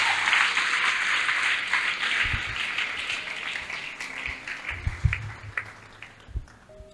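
A church congregation bursts into loud, dense applause that gradually thins to scattered claps and a few cheers, with some voices in the crowd.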